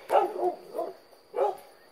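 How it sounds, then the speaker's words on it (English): Dogs bark at pigs roaming outside, three bursts of barking, fairly close and loud, with short gaps between. "And my dogs are still going crazy because the pigs are out there."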